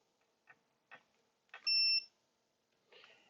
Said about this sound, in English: The buzzer beeps and will continue to beep 30 seconds as a sort of standby beep